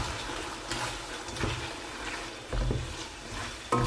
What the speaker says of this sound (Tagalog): But I put some water